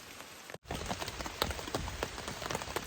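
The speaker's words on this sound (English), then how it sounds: "waiting on the rain to quit" Steady rain patters on a camp umbrella and tents at a wet trail campsite, a dense close drumming with scattered louder drops, broken by one brief dropout near the start.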